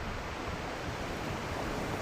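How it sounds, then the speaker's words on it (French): Ocean waves play as a backdrop for a yoga routine. The surf is a steady, even wash of broadband rushing noise, moderately loud and unbroken, with no voices over it. "Laissez-vous porter par la mélodie des vagues."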